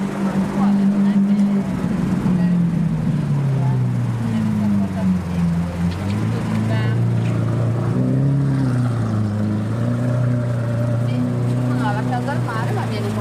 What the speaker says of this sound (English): when you put an exhaust system on it and decat it, so Capristo decat, here's another Aventador